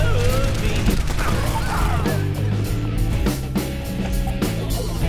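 Bastion's gunfire in the video game Overwatch, rapid sustained shots mixed with other busy game effects and voices, loud and continuous throughout.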